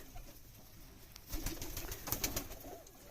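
Soft, low pigeon cooing repeats a few times against a quiet background, with a light rustle of movement partway through.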